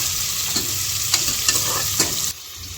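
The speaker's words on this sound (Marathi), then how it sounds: "कांदा जरा भाजून घ्यायचा" Onions frying in a pan with black pepper and cloves for chicken biryani, a steady close sizzle with a few spoon scrapes before it suddenly quietens, no voices.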